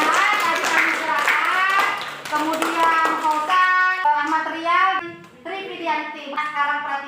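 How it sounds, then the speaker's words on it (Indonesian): Classmates in a school classroom clap for a fellow student, a dense patter of hand claps mixed with children's voices and chatter, fading as raised voices carry on over the room. "Beri aplaus dulu buat temannya"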